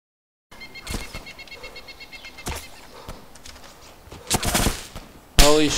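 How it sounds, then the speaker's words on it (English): Gunshots ring out in the video game DayZ: several sharp separate cracks spaced a second or so apart, then a tight cluster of shots near the end, over a quiet background. "Oh, someone's shooting at me."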